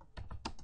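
Several quick keystrokes on a computer keyboard while code is typed, close and clear, in a short burst with no talking.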